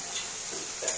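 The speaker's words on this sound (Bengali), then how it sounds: "মশলাটা কষানো হয়ে গেছে, এবার আমি সোয়াবিনগুলো সব দিয়ে দিচ্ছি।" Soybeans go into fried spice paste in a hot pan, bringing a quiet steady sizzle with a couple of faint soft stirring scrapes near the end.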